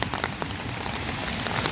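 Heavy rain drums steadily on a hammock tarp at a stealth camp, a dense, close, continuous patter with no voices.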